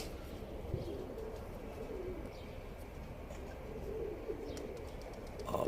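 Soft cooing of an escaped pigeon on a roof outdoors, steady and moderately distant, over a low background rumble.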